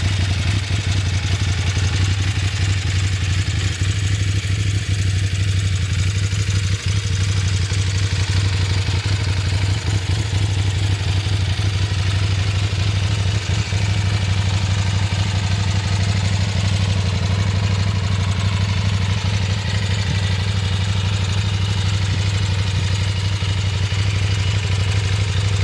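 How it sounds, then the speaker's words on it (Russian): KOVE 800X adventure motorcycle engine idling, a loud, steady, clattery drone that holds unbroken for the full length with no talking over it. "Сам звук работы мотора неимоверно шумный и какой-то нездоровый."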